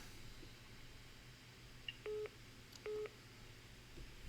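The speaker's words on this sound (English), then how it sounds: "Oh, getting a phone call." Two short electronic beep tones from an incoming telephone call, evenly spaced about a second apart, faint over steady room noise.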